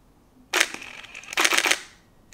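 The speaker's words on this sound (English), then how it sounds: "Press the shutter." A Nikon F5 film camera shutter fires with a crisp mechanical clack, then the motorized film advance whirs in a rapid burst of ratcheting clicks, close and loud against a quiet room.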